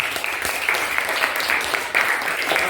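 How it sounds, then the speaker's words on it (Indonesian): A classroom group claps loudly and steadily for a few seconds in quick, uneven bursts, with a faint voice partly audible beneath. "Tepuk tangan yang meriah"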